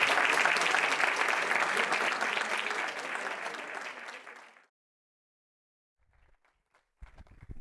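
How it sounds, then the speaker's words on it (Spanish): An audience gives a round of applause at a monthly talk. Dense clapping runs for about four and a half seconds, fades away into silence, then a few faint scattered noises follow. "un aplauso para ello,"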